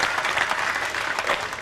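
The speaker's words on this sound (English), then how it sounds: "He just tanked the 99 ball and everybody was clapping there." Audience applause at the 2003 World 9-Ball Championship pool match between Francisco Bustamante and Efren Reyes, a dense, steady clapping from a crowd heard close and loud throughout.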